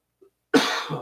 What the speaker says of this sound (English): this is what you get when you, have a cough like this